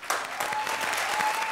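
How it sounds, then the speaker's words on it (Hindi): Studio audience applause on a Hindi comedy stage show, a steady dense wash of clapping held at even loudness throughout. "जोरदार तालियां राजीव और सलोनी के लिए।"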